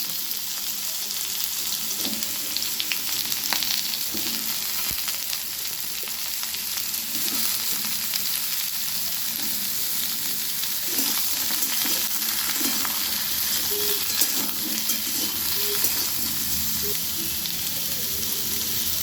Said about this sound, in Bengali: আলুগুলো আমি খুব ভালোভাবে ভেজে নিলাম, নিয়ে আমি এবারে লাউটা দিয়ে দিচ্ছি।